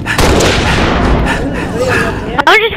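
Loud, dense gunfire and thudding blasts from the video game Halo Reach fill the scene almost continuously, a pistol among the weapons, with a brief sharp burst near the end.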